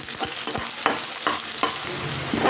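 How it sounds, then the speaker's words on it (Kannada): Onions frying in hot oil with curry leaves until reddish-brown, a steady close sizzle broken by several scraping stirs of a spoon in the pan, with no voices. "ಈರುಳ್ಳಿ ಹಾಕಿ ಕೆಂಪಾದ ಫ್ರೈ ಮಾಡ್ಕೊಳ್ಳೋಣ."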